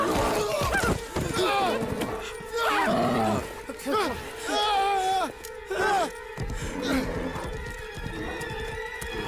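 An animal roaring in Red Dead Redemption 2, loud growls and roars mixed with horse whinnies and hoofbeats, while people talk and shout over it.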